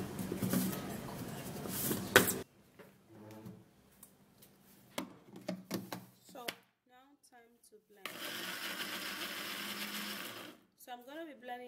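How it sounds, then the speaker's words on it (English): Electric blender whirring loudly for a couple of seconds while blending a black seed hair mixture with water, then stopping and starting again for another burst, with a person talking between the runs. "So I'm going to be blending it for 10 seconds."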